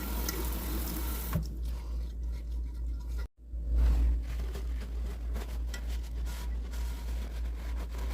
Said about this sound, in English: Rinse well and pat dry.